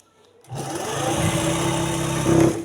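A sewing machine stitches elastic into trousers, running in one steady whirring burst that rises slightly in pitch near the end before stopping.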